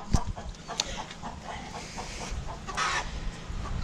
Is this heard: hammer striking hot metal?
no